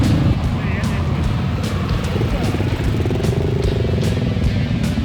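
Several dirt bikes ride off from a campground toward a rally start, engines droning loudly and continuously at close range with a rough, layered rumble, while a person speaks over the noise.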